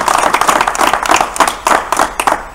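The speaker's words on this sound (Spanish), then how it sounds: "Yo quiero dar un aplauso a vosotros mismos" Applause from a crowd gathered at the end of a pilgrimage walk from Granja de Rocamora to Caravaca, dense hand clapping that rises and falls in waves, loud and close, with no voices standing out.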